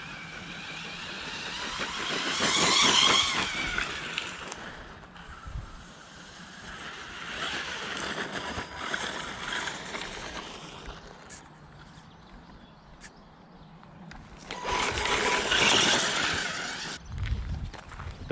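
A WLtoys 124012 RC truck drives on a slippery surface, its electric motor whining in rising, surging bursts at close range, with wind buffeting the microphone between runs.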